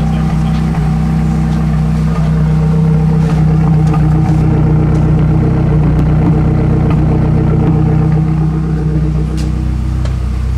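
A fully built Mazdaspeed 3 engine idles steadily after its first start-up, a loud, continuous low drone with a strong fundamental rumble and no revving, running alone throughout.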